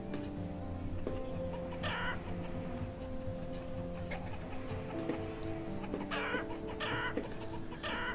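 Chickens cluck repeatedly in the village-building game Banished, a steady flock chatter with short bursts over layered game ambience and music tones.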